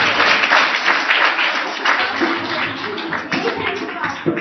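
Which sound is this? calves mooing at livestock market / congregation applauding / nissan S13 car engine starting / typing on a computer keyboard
congregation applauding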